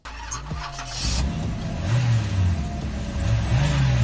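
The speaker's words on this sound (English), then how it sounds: "Yes, start the cars." Race cars in a Minecraft game start up and rev loudly, engines rising and falling in pitch over a steady roar that continues throughout.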